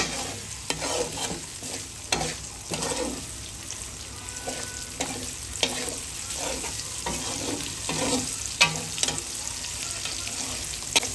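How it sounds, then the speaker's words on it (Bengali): Onion and capsicum stir-fried with spice paste for chili chicken, a spatula scraping the pan in repeated strokes over a soft continuous sizzle, close and fairly quiet. "এখন এই মশলাটার সাথে ও আবার নাড়াচাড়া দিয়ে নিচ্ছে ভালো করে।"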